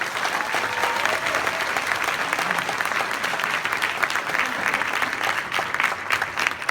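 A workshop audience claps for a presenter, producing a dense, even roar of applause that holds steady throughout, with a faint voice briefly audible beneath it.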